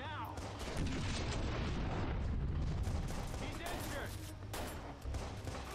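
Dense gunfire in the video game Watch Dogs, a continuous barrage of shotgun and rifle shots with booming blasts filling the whole stretch, loud and close.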